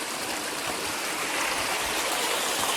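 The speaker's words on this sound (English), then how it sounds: "We're at another waterfall here." A steady, full rush of water pours over rock at a waterfall in the snowy Ozarks, a constant broadband roar with no voices over it.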